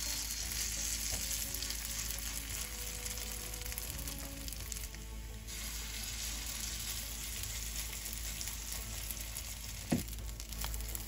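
Potato cake mixture frying in oil in a pan, a steady broadband sizzle that holds throughout, with a brief clatter near the end; no talking.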